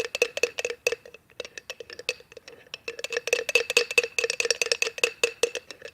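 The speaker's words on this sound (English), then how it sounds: "I'm going to mix this for quite a while now to get all the little bits out" A spoon rapidly tapping and clinking against a bowl while mixing a homemade claybord mixture, a steady fast rhythm of sharp close knocks that continues throughout.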